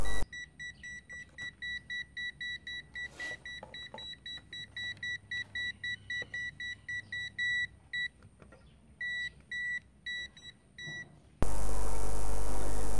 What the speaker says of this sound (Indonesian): Hidup, mati, hidup, mati, multimeter tetap berbunyi.